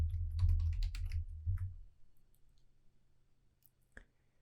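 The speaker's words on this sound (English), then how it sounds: "It's as easy as clicking on the cell you want to update and typing in the information." A computer keyboard clatters with a quick run of typing keystrokes and clicks that fade into near silence, then one sharp isolated click near the end.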